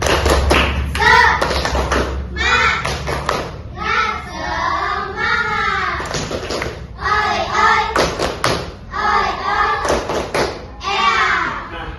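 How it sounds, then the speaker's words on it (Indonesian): A group of schoolchildren in a classroom performs the tepuk semangat clapping chant, loud rhythmic bursts of claps and thumps alternating with chanted voices, close and lively. "coba kita tepuk semangat dulu ya. Tepuk semangat."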